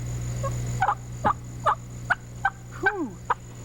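A human voice naturally imitates early morning turkey tree yelps: a series of short, soft, evenly paced yelping notes, fairly faint over light background hum.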